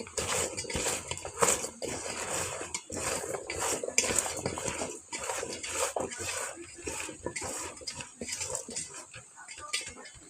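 Hilsa fish being mixed with salt by hand in the kitchen, giving a busy run of wet squelches, clinks and handling clatter that continues steadily and fairly close throughout.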